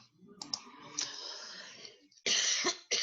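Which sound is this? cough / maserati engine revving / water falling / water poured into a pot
cough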